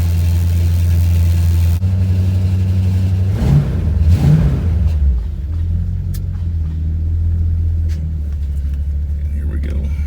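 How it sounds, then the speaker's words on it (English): A Ford Torino with worn upper A-arm bushings rumbling along at low speed, its engine a steady close drone, with a brief louder clatter and thump around the middle from the loose front suspension, then settling back to an even rumble. "When I start driving, you'll hear a rattle in the front suspension too"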